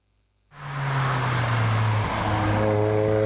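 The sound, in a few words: race car driving on a hillclimb course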